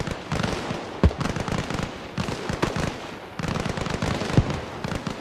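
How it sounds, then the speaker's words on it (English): Heavy gunfire in Battlefield crackles in dense, rapid bursts, with sharp individual shots and booming impacts standing out against a busy rattling background. "We have heavy gunfire going on."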